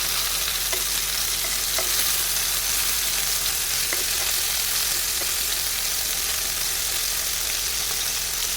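Chicken keema balls fry in a pan, producing a loud, steady, close hiss of sizzling oil with faint crackles throughout.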